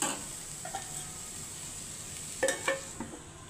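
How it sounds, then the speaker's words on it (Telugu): Onions cooking with salt in a covered pan, a faint low sizzle with a few brief scrapes and clinks of the lid or spoon, quiet and close, no talking. "దాంట్లో ఉన్న నీరంతా బయటకు వచ్చేసి ఉల్లిపాయ వేగిపోతుంది"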